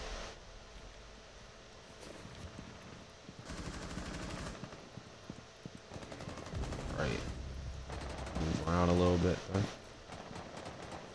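Teammates fire guns in a video game, with rapid machine-gun bursts and scattered shots at a moderate distance, mixed with game noise and a louder flurry near the end.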